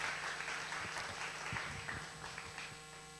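Church congregation applauding a youth group's cell leaders, a close patter of many hands clapping over a steady background hum, fading slightly toward the end.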